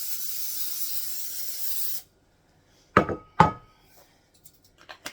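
A can of cooking oil sprays a steady hiss into a bread pan for about two seconds, then stops, followed by a couple of sharp knocks and small handling clicks close by.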